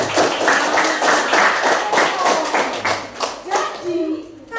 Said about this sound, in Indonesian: Betul, tepuk tangan untuk Dila.